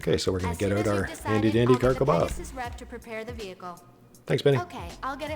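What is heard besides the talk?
No everyday noises stand out.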